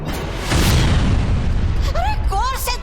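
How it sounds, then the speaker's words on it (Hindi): Booming firecracker blasts strike an army in a Baalveer Returns TV superhero battle scene, a loud sustained rumble of explosions with a few rising whistling tones near the end. "आपकी सेना को फटाकों से और हवाई यंत्रों से उड़ाकर"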